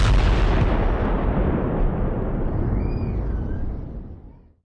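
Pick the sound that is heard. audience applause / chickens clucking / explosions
explosions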